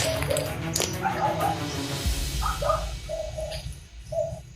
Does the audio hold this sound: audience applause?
no